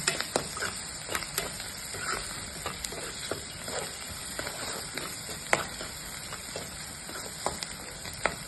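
Onions and green chillies frying in a pan for a dried prawn and egg curry: a continuous close sizzle with intermittent stirring scrapes and taps, no talking.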